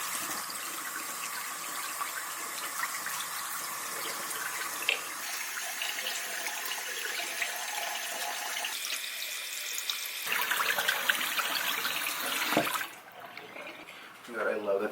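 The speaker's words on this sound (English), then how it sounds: "Wash my hands first." Tap water running steadily into a restroom sink while hands are washed, a broad hiss of flow at moderate level that grows fuller near the end, then cuts off abruptly before resuming briefly.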